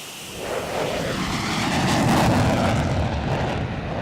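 Steady, loud roar of an F-16 fighter jet in flight, rising slightly and holding as a broad, even rush with no talking over it.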